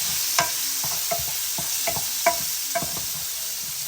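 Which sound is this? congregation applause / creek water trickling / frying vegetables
frying vegetables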